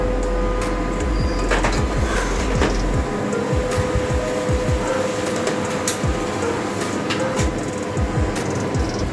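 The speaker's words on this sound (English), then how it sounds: "Now I gonna print a page on my printer." An HP LaserJet 1020 Plus laser printer runs steadily, whirring and clicking with rhythmic mechanical ticks as paper feeds through, loud and close with no voices.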